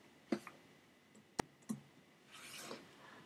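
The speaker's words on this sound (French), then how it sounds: "et on clique sur OK." A computer mouse clicks OK in LibreOffice: a few sharp, close, quiet clicks spaced about a second apart in a quiet room, with a soft rustle near the end.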